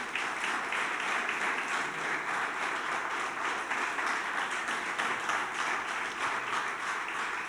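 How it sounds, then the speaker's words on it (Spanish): A church congregation claps for the Lord during a Sunday morning service, a sustained, even wash of applause that holds steady for the full length. "¿Por qué no le damos un aplauso al Señor en esta mañana?"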